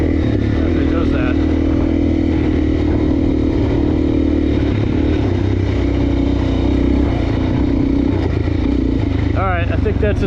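A Suzuki DRZ400 dirt bike cruises in second gear around 24 to 30 mph, its single-cylinder engine droning steadily and loud throughout, with wind rush and a rider's voice talking over it.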